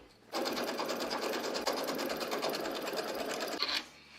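An embroidery machine sews a quilt block's outer placement line in the hoop, a fast steady mechanical whirring hum starting abruptly, running about three and a half seconds close by, then stopping.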